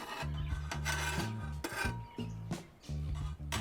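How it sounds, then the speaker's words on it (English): Metal spatula scraping eggs around a hot Weber Q griddle, a steady run of loud rasping strokes with short pauses between passes, heard up close without talk. "as the eggs cook, you just want to kind of scrape around a little bit"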